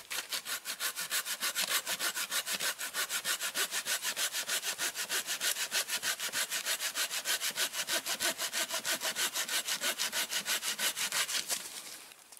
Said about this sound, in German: das Ding schneidet so trockenes Holz